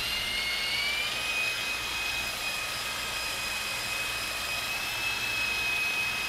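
A small New Art Tech 400 class Agusta double-rotor RC helicopter hovers indoors in a closed space, a steady high-pitched electric whine with a constant hiss, unbroken and fairly faint, no voices.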